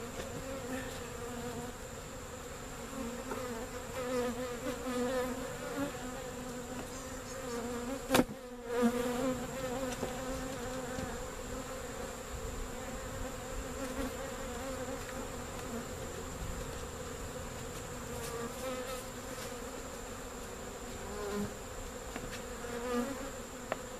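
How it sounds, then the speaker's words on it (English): Honey bees from a tiny swarm buzz steadily and densely close by, a continuous hum that keeps going with a brief knock partway through. "lose all the field bees from that tiny swarm"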